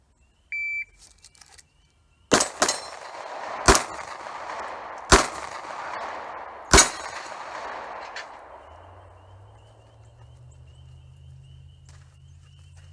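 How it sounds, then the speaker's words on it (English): Five sharp pistol shots fired at a shooting range ring out at uneven intervals, each a loud crack with a reverberant tail, heard alone without talk. "That was a 5-shot group that I just did there."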